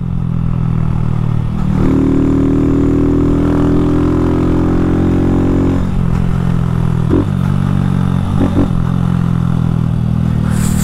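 A modified Honda Fan 160 motorcycle engine drones loud and close with a steady, buzzy idle, climbing briefly in pitch as the throttle is blipped and then settling, with a few clattery mechanical knocks near the end and no talking.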